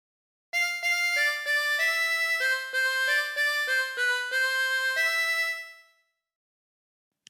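A 24-hole tremolo harmonica plays the Ampar Ampar Pisang melody, a bright wavering reedy tone moving through a steady run of short notes before fading out, solo and close.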